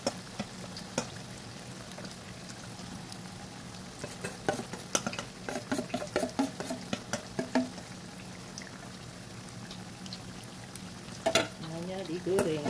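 Bakwan lentil fritters fry in oil with a low, steady sizzle, punctuated by clusters of utensil clicks and scrapes, and a voice briefly speaks near the end.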